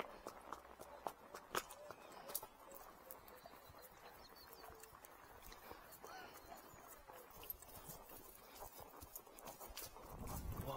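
Hooves of a horse being ridden along near railway lines clip-clop in a steady walking rhythm, crisp and fairly close, with light outdoor background noise.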